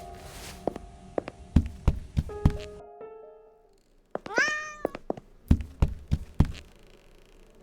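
A cat in the Burnhouse Lane video game lets out a clear, close meow midway, set among sharp thuds and footstep-like knocks that come in irregular bursts, with a stretch of near silence before the meow.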